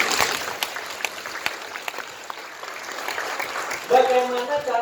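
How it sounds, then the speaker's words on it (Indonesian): Scattered clapping from a small audience rises under the room noise, fairly faint and spread out, with a voice cutting in near the end. "Tepuk tangan dong."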